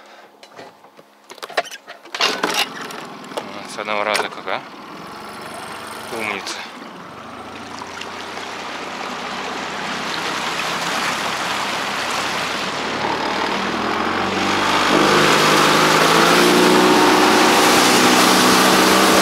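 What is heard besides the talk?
outboard boat motor starting and running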